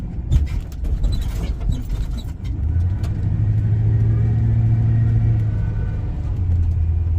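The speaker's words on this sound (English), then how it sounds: "It's downshifting and upshifting the way it should right now." Car with an automatic transmission driving on local roads, its engine rumbling and rising steadily before easing as the gears change, a continuous close cabin drone with no talk.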